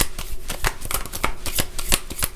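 A deck of tarot cards is riffled and shuffled in quick, rhythmic flutters, close and fairly loud, with no speech.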